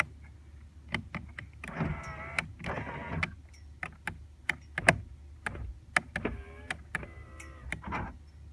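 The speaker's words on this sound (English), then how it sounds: "I do have full use of my windows now." Power windows on a 1997–2001 Jeep Cherokee XJ operating, with short motor whirs rising and stopping between many sharp clicks and ticks of switches, close and moderately quiet, no talk.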